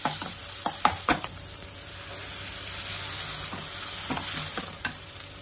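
Onions sizzle in hot oil with cumin, mustard seed, fenugreek and garlic for sambar, a steady close frying hiss broken by clinks and scrapes of stirring.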